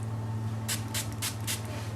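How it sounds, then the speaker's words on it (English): Four quick bursts of a handheld spray bottle misting plain water onto natural hair being dampened before Bantu knots, close and crisp, each short hiss spaced evenly over a steady low background hum. "I'm gonna get a spray bottle and spray a little bit of just water on it to keep it damp."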